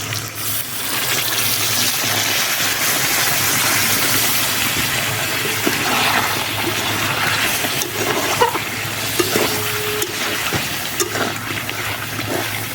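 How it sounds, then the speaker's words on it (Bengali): Hot water is poured into a chicken kosha gravy cooking in a pot over a clay village stove. A loud, continuous gushing splash fills the first stretch, then eases into bubbling and light clatter, with no talking. "কিন্তু আমি এর মধ্যে দেবো একটু গরম জল, তাতে গ্রেভিটা খুব সুন্দর হবে"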